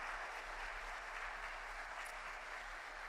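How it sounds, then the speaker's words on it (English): An audience applauds at a softball state championship celebration at Weslaco High School. The clapping is faint and distant, with a steady wash of hands and a low hum underneath. "So a big round of applause to Palacio de Destiny also."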